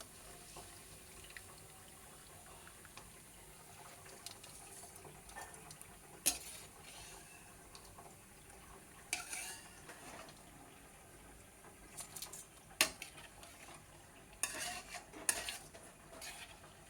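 A spoon stirs and scrapes through a potato and Bombay rava mixture as rice flour is worked in, with quiet scattered clinks and scrapes against a bowl, faint and close in a calm kitchen.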